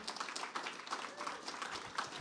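An audience at a fellows' reading applauds an artist with a studio exhibit, moderate clapping filling the short span at an even level, a bit distant.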